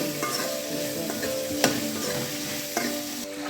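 Beetroot sautéing in a home kitchen pan for chutney, a steady moderate sizzle with occasional scrapes of a stirring spoon, including one sharper clack partway through.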